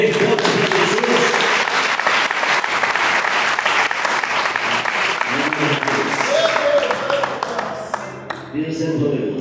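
A church congregation claps hands loudly and continuously at a Friday night service, a dense wash of claps with voices calling out over it.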